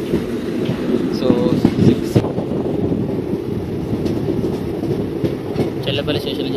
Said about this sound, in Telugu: చెర్లపల్లి స్టేషన్ నుంచి అయితే స్టార్ట్ అయిపోయింది.